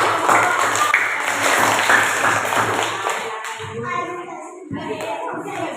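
Students clap together in a classroom, a dense burst of many hands for about three seconds that thins out into scattered claps and murmured voices.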